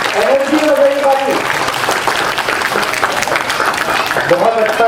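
Audience clapping at an employees' welfare association cultural event in Burnpur, sustained applause from a crowd that runs throughout, with a voice speaking over it near the start and end.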